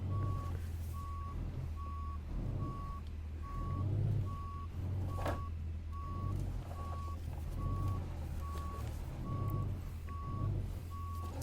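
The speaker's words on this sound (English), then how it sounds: "We're gonna have to reverse in, I think." Steady evenly spaced reversing beeps from a Renault Range T truck in Euro Truck Simulator 2, sounding over a low continuous diesel engine drone, with no talking.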